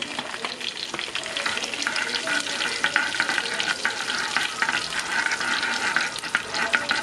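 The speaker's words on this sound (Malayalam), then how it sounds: "അതിനകത്തേക്ക് ഒരു 1/2 ടീസ്പൂൺ ജീരകം ഇട്ട് കൊടുക്കാം." Cumin seeds crackle and spatter in hot ghee, a dense, continuous fry with frequent sharp pops close by, steady throughout with no talking.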